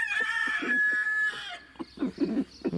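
A rooster makes a run of soft, rapid clucks in short bursts, close by, with a higher squawking call at the start.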